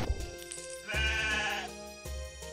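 Yaks in the Diablo video game bleating, a few nasal, wavering calls one after another, fairly close and clear with short gaps between them.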